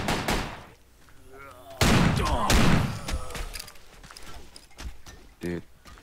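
Pistol gunfire in the zombie shooter Zombie Panic! Source, a burst of sharp shots and booming impacts in a noisy game scene, with players talking over the action.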